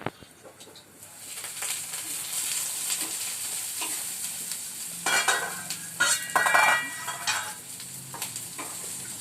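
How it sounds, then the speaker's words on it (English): Bottle gourd sizzles steadily as it browns in a pan, a continuous frying hiss with scattered stirring scrapes and a louder, crackling burst of sizzle toward the end. "the bottle gourd is getting slightly browned up, getting cooked nicely"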